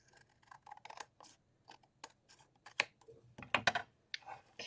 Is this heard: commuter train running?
no